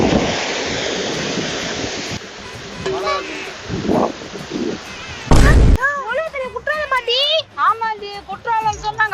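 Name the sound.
waterfall pouring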